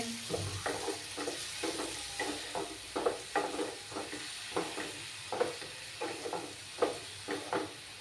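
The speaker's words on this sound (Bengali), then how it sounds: "দিয়ে ভালো করে কষাতে হবে।" Cumin and chili powder paste mixed with water sizzling in a pan for a fish curry, with a soft continuous fry and a regular rhythm of stirring scrapes throughout.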